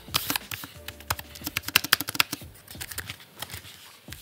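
Keys clattering on a Brydge keyboard made for the 10.2-inch iPad, with a fast, uneven burst of close, crisp clicks that peaks mid-way and then slows, with no talking.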